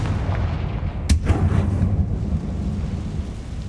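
A Confringo fire spell explodes in the Hogwarts Legacy video game, a single sharp blast followed by a rolling, crackling rumble that fades into steady low ambience.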